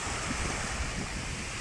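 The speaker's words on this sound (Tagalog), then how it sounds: "kaya malalaki rin ang alon" Rough sea waves slapping near a small wooden boat out on open water during a storm, a dense, continuous wash with heavy wind rumble against the microphone.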